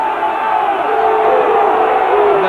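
Crowd at a rugby match between Cornwall sides roars continuously in a loud, sustained swell of cheering and shouting, with massed voices filling the whole stretch.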